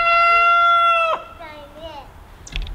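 Chickens in an old abandoned apple orchard give a loud rooster crow followed by softer clucks and squawks, close by, with a bit of background sound.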